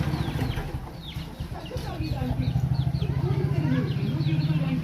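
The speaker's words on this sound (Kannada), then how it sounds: "ಕುಕ್ಕು ಕುಕ್ಕು ಕೋಳಿ ಬಂತು ಅಂತೇಳಿ ಕೋಳಿಗಳು ನೋಡ್ರಿ ಮರಿ ಕರ್ಕೊಂಡು" Country hens leading their chicks about a village yard, clucking in quick rhythmic bursts with faint high peeps, close and steady, while someone talks over them.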